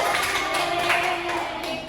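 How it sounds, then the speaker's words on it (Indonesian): A group of students claps together in an Indonesian classroom, a dense continuous patter of applause close by for the whole stretch, with no talking over it. "Tepuk tangan buat kita semua."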